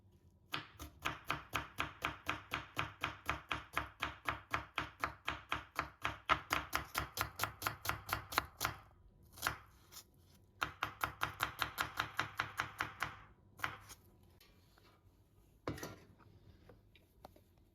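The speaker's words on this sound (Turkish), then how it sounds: "Soğanı yemeklik doğrayalım." A knife chops an onion rapidly and rhythmically on a cutting board, dozens of crisp, even strokes in bursts with short pauses between.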